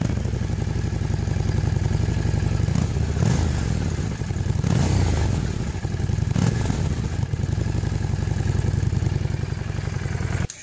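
Harley-Davidson XG750 Street motorcycle engine running steadily with its stock factory exhaust, a continuous close mechanical rumble with a few brief swells in throttle and no talking.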